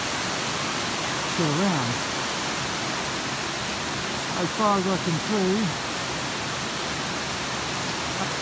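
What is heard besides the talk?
waterfall rushing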